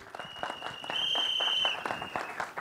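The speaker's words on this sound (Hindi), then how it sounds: "मुकेश भट्ट साहब के लिए जोरदार तालियां हो जाए" Audience applause at the trailer launch event for the Hindi film Savi, steady clapping from a crowd that swells and holds for a couple of seconds, with a bright electronic tone sounding over it.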